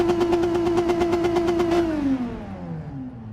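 Renault RS01 Group 3 race car in Gran Turismo 7 accelerating hard, a loud, close buzzing engine note holding high with rapid pulsing, then dropping in pitch as it eases off, heard alone.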